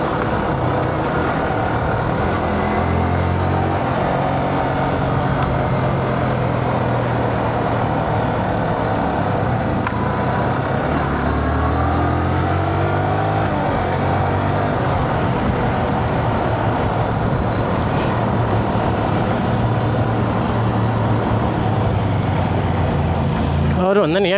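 A Yamaha MT motorcycle engine, a steady close drone that holds for the whole stretch with gentle shifts in pitch as the bike rides on, with a voice talking over it at times.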